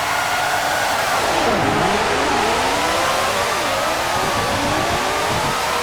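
Formula 1 cars in Formula 1 Championship Edition (1997) accelerate away at the race start. A loud, continuous engine roar sweeps upward in pitch as several cars pass and shift gears, with no talk over it.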